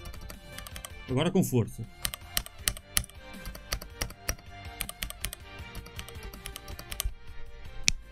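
Computer keyboard keys, including the backspace, are pressed in a rapid run of crisp clacks and taps close by, with a voice briefly speaking early on.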